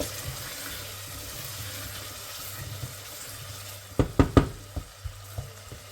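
Spices frying in a pan for a zucchini dish give a soft continuous sizzle, with a few sharp clatters of stirring near the end; no talking.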